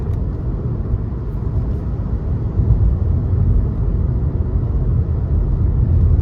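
Engine of a 2023 Nissan Versa SV with a 1.6-litre engine and CVT, heard from inside the cabin under acceleration: a steady low droning rev and road rumble that holds a constant pitch.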